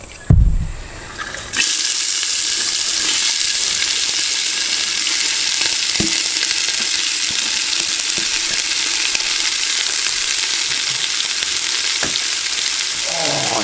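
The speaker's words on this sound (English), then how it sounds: "as soon as that onion hits the oil" One large brown onion dropped into hot oil in a cast-iron South African potjie over charcoal, bursting into a loud, close, continuous sizzle that holds steady throughout.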